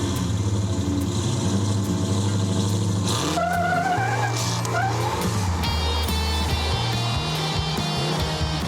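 A 1970 Plymouth Superbird fitted with a 707-horsepower Hellcrate engine rumbles and revs loudly up close, its exhaust note rising and shifting through gear changes, with a brief tire squeal partway through.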